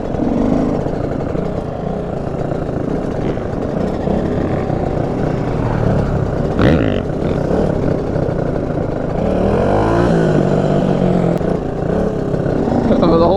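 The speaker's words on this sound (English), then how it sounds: "Oh, the whole engine shaking." A car engine revs and shakes at a lot, a loud, continuous low rumble that rises and falls with throttle, while people talk nearby.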